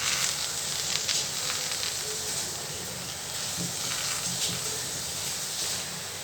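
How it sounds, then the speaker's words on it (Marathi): A chapati cooking in oil on a hot iron tawa gives a continuous soft, hissing sizzle, steady and close throughout with no talk. "तवात तेल टाकून ठेवायचं. मी चपाती टाकून मी लोखंडाच्या तव्यामध्ये करते."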